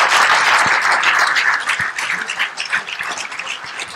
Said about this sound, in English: another huge round of applause for that wonderful speech